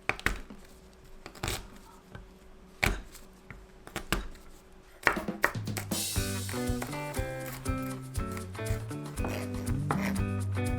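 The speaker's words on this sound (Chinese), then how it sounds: "大蒜拍散切成碎末" Garlic cloves are smashed and then minced with a kitchen knife on a cutting board, heard as a few sharp, separate knocks and thumps before background music enters and continues over the sounds.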